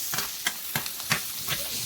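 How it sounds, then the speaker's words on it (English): Onions sautéing in a pan over medium-high heat for a Philly cheesesteak, a steady close sizzle broken by several sharp scrapes and stirs of the spatula, with no talking. "Then we'll saute these over medium-high heat."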